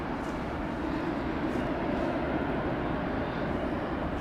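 A Boeing 787 Dreamliner at London Heathrow Airport produces a steady, broad jet roar at moderate distance, holding a constant level throughout with no voices.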